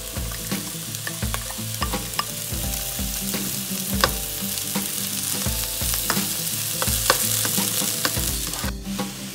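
Onions sizzle in a pan over medium heat while beef bulgogi is being cooked, a dense crackling fry broken by repeated scraping stir strokes, close and steady with no talk.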